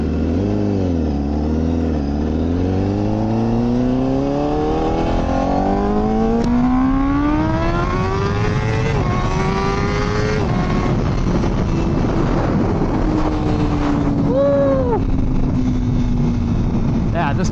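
A motorcycle engine revs and accelerates through the gears while riding, its rising pitch sweeping up and dropping at each shift, loud and close against constant wind rush.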